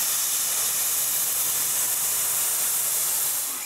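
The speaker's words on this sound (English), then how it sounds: "I spray 3 coats of exterior paint and wait a full day in between coats." Exterior paint sprayed onto a wooden frame for a folding whiteboard, a steady, loud, unbroken hiss of spray running close-up for several seconds before easing off at the end.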